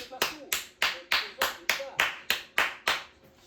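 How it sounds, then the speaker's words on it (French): A football coach claps his hands for his players, about a dozen sharp, close, evenly spaced claps at a steady moderate pace with short gaps of quiet between them. "J'applaudis mes joueurs"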